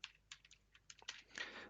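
Keys on a computer keyboard are tapped in short, quiet bursts with brief pauses between them, close up and alone, as a command is entered at a Linux install prompt.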